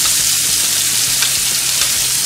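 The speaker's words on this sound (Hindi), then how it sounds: "ये 2-3 मिनट के लिए हमने मसाले को अच्छे से भून लिया है घी में।" Coarsely ground spice masala sizzles steadily in hot ghee while being fried for a khatti mithi dal, a close, continuous crackle with occasional stirring.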